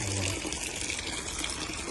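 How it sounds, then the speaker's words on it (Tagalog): Tap water streams steadily from a faucet at a school vegetable garden where lettuce is grown, a continuous close splashing hiss with no pauses. "Habang ang tubig sa gripo ay tumutulo."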